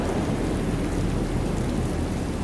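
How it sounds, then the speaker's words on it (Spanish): Steady downpour drums over a low, constant rumble of thunder in stormy 1915 Massachusetts in Call of Cthulhu: Dark Corners of the Earth, loud and unbroken throughout with no voices. "Como llueve en Massachusetts."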